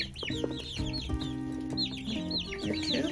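Hens cluck and chatter together inside a freshly bedded backyard coop, with overlapping calls close by and no talking.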